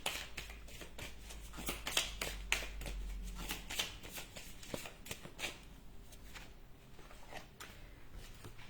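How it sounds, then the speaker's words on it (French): Someone shuffles an archangel oracle card deck by hand and draws a card. The crisp, rapid riffling and flicking of the cards is close and soft, repeating steadily with no voices. "je vais juste tirer une dernière carte pour terminer cette guidance"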